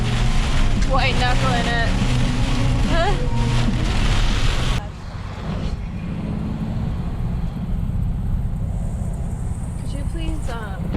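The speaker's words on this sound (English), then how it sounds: "our muffler started making a loud sound. You can listen for it in this clip." A car with a loud, damaged muffler drives toward the Outer Banks after a heavy rainstorm, giving a steady, rough exhaust drone that drops lower partway through, with people talking over it.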